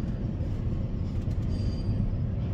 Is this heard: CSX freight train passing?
yes